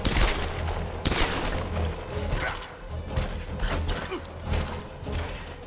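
Gunfire in the Tomb Raider (2013) video game: dense, rapid bursts of shots with mechanical clatter, sustained and loud, overlapping throughout with no speech.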